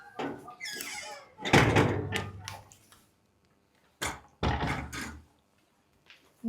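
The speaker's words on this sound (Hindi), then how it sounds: "दरवाजा लगा लीजिए।" A door being shut indoors in a small room, giving two solid, close bangs a few seconds apart, each followed by a short ringing tail, with quiet between them.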